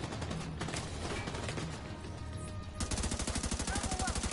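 Turret gunfire in The Division 2, with scattered shots and then, partway through, a steady rapid rattling burst of automatic fire that runs to the end, fairly loud and close.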